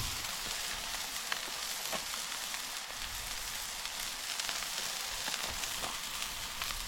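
A burger and bacon sizzle steadily on a griddle at an outdoor camp cooking setup, producing a loud, even, crackling fry with small pops throughout.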